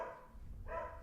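A single bark from dogs outside, moderately distant and muffled, standing over a low rumbling background with no voices.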